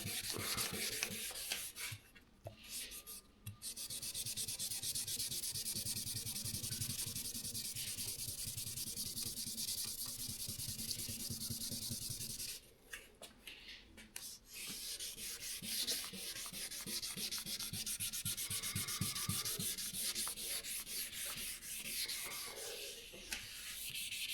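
Hand sanding removes peeling lacquer clear coat in a long, steady scratchy rubbing, close and fairly quiet, broken by a couple of short pauses and resuming in continuous strokes without speech.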